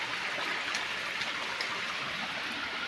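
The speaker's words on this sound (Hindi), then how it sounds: "ऊपर से ये झरना गिर रहा है" A small waterfall spills in green Amarkantak forest along the Narmada parikrama route, a steady, close rush of falling water with a bright hiss, unbroken throughout and with no voices.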